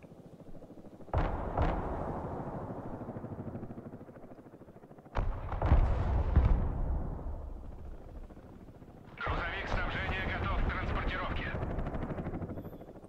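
Artillery fires in the real-time strategy video game Broken Arrow as heavy booms landing a few seconds apart, each with a long rumbling tail, followed by a denser rattling barrage toward the end.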